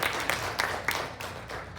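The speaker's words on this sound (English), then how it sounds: "Give them a round of applause." A short burst of applause, hands clapping in a small crowd at a school spelling bee, fairly close and steady.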